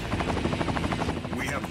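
A helicopter in the video game Metal Wolf Chaos XD beats steadily and loudly, its rapid rotor chop running throughout with game noise mixed in.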